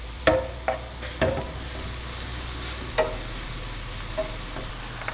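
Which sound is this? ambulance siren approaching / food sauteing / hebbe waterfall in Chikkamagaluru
food sauteing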